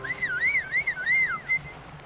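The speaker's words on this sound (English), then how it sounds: "When the time is right, I will whistle like this." A cartoon character whistles a signal, a warbling, wavering tune that rises and dips several times over about a second and a half, heard clearly over a soft background bed.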